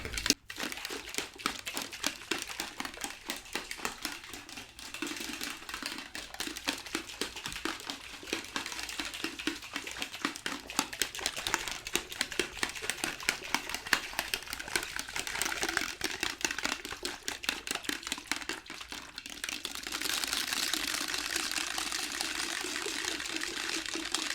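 Milo powder rattles inside a shaker in fast, continuous rhythmic shaking that lasts a long stretch, close and crisp, with no talk.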